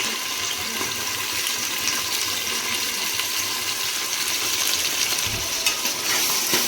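Tomatoes sizzle steadily as they go into a hot pan for Karnataka-style tomato bath, a continuous broadband fry with faint stirring scrapes and no talk.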